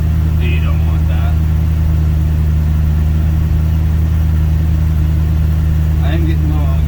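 Dodge D100 pickup truck engine idling after a cold start, heard from the passenger seat as a steady low rumble throughout, with brief voices over it.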